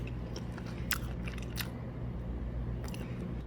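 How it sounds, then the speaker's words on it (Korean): Crunchy bites and chewing on a Texas barbecue spare rib, a few sharp close crackles of bark and meat pulled from the bone over a low steady background hum. "요거 한입 깔끔하게 뜯어 보겠습니다"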